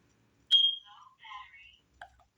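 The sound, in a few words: smoke detector low battery warning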